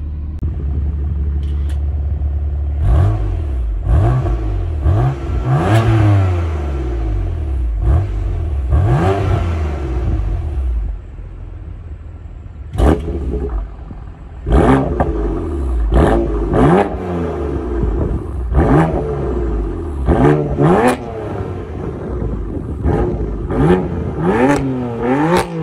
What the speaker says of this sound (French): je vais vous mettre à l'extérieur de la voiture et je vais vous faire écouter ça un petit peu mieux.